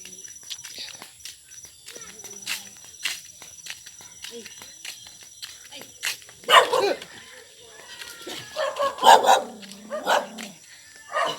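A dog barks in a yard in a Bicol village, a few sharp barks standing out around the middle and later part, mixed with people talking and background sounds.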